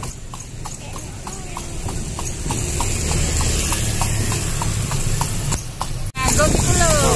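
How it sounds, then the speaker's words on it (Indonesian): Andong horse carriage in Malioboro at night, with steady rhythmic clip-clop of hooves on the road throughout, and people talking over the hoofbeats. "Malam-malam naik Andong dari Malioboro."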